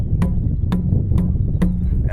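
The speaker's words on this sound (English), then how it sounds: "this next sound you hear will be with the drum on the ground" Conga drum struck standing flat on the ground, four evenly spaced hits about half a second apart, each a short slap with a low ringing body tone over a steady low hum.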